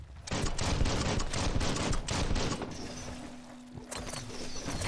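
Gunfire in the video game Biomutant: a dense, steady burst of rapid shots that stays loud and close through most of the stretch, with a sustained tone entering partway.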